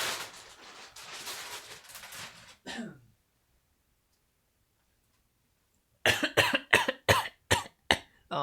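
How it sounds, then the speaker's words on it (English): Close coughing right beside the microphone: a burst of harsh coughs, a few seconds of silence, then a rapid string of six or seven loud, sharp coughs. "Oh, I'm so sorry, coughing right next to the mic."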